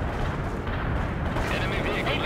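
Artillery fire and shell impacts in the war game World in Conflict, dense booming blasts and rumbling explosions running continuously, with a voice talking over them.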